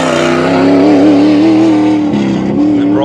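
The Bright Sparks motorkhana rally car at the Cliffhanger 2025 stages blasts past very close and loud, its engine note rising and wavering through revs before dropping away near the end.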